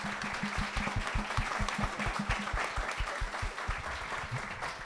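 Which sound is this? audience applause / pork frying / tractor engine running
audience applause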